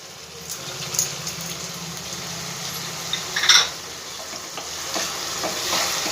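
Ginger-garlic paste frying in a pan with onion and tomato gives a steady, quiet sizzle, broken by a few clinks and stirring scrapes.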